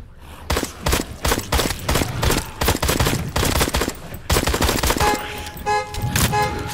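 Rapid bursts of gunfire fill a zombie video game, dense volleys of shots repeating loudly almost without pause, with a horn-like tonal sound joining near the end.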